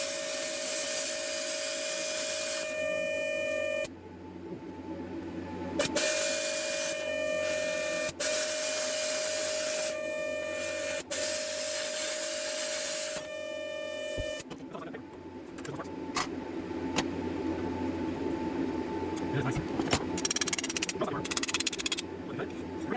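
YESWELDER plasma cutter at 50 amps cutting metal freehand, a loud steady hissing buzz with a high whine that cuts in and out in bursts, then a rougher, noisier stretch of cutting.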